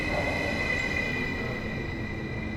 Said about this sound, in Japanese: 電車が来ました。